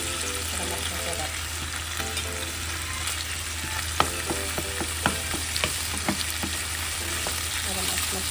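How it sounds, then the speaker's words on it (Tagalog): Garlic sautés in hot pork fat for Filipino pork adobo, giving a continuous close sizzle with scattered light clicks of stirring, steady throughout. "gusto na magigisa pa ako dito ng bawang"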